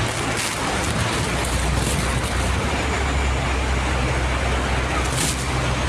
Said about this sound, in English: I'm trying to shield from the water and the rain and the wind.